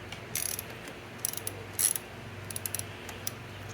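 A ratchet with an 11mm socket clicks in short bursts while working a fastener on a seized 1979 Vespa P200E Piaggio engine, close and crisp with pauses between strokes.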